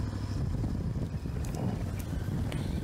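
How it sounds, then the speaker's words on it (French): Headwind roars during a cycling climb at the Tour Cycliste de la Martinique, a steady loud low rush of wind buffeting the microphone throughout, with a few brief sharp gusts or knocks on top. "on commence à avoir un vent de face dans l'ascension"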